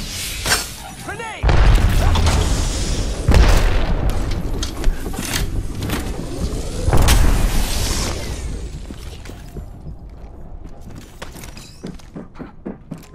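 A grenade explodes during a firefight in the video game Apex Legends, bringing several heavy, booming bursts with crackling debris and shots mixed into loud, continuous combat noise that fades toward the end.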